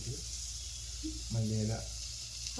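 Tomatoes go into a pan of chicken curry: a steady, close sizzle and hiss, with a voice speaking briefly over the frying.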